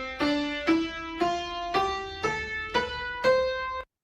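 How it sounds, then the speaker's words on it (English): Seven soft synthesized notes in the fourth octave, generated from soft building colors in an urban architectural design tool, step upward one by one at an even pace, each with a gentle attack and short decay, alone and fairly quiet. "So the softer colors will get translated into the fourth octave that sounds like this."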